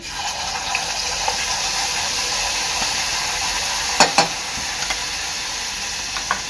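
Spice paste for a pomfret curry sizzles steadily in hot oil while being stirred, a continuous bright frying hiss with a few sharp scraping clicks of the spoon near the end, close and without talk.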